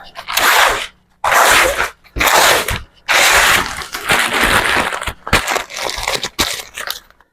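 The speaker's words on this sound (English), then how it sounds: "So now I can just peel it off." 3M 1160 protective overlay film peeled away from a surface in several loud, close, crackling bursts separated by short pauses.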